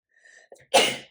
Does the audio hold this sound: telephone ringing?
no